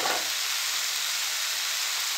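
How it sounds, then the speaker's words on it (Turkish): Chopped leeks sauté in a hot pan with black pepper and chili flakes, giving a steady, close, bright sizzle with a brief stirring scrape at the start and no talk over it. "Tekrardan şöyle güzelce bir pırasamızda kavuralım arkadaşlar"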